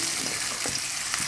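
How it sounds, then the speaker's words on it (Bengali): Potato pieces dropped into hot oil one by one, a steady bright sizzle and crackle of frying filling the clip with no voices. "এবার ওই তেলের মধ্যেই আলুগুলো এক এক করে ছেড়ে দেবো"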